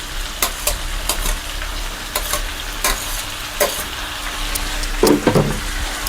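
Malabar spinach frying in a hot pan, a loud continuous sizzle broken by sharp scrapes and clinks of stirring, with a louder bubbling burst near the end.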